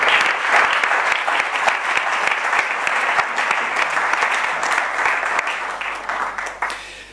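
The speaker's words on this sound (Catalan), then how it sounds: "i ara sí, un aplaudiment dels grans." Sustained audience applause at a Catalan stage performance, dense and steady clapping from a large crowd filling the space before tapering off near the end.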